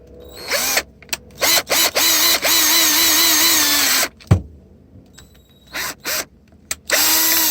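Cordless power drill boring a hole into an old keyboard for a DIY lamp, whirring in repeated bursts of rising speed with pauses and a sharp clunk midway, loud and close.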